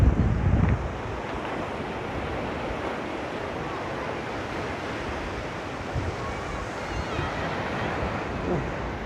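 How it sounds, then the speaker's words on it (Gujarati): Ocean waves surge and crash against the shore near a bridge at Dwarka on a windy day, with a continuous roaring wash of surf, heavy wind buffeting the microphone, and a louder burst at the start. "હા મોજા જોઈ શકો છો તમે."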